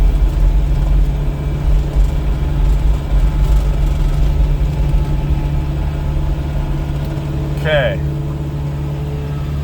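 A snow blower engine runs close and loud with a steady low droning hum throughout, and a short spoken word near the end.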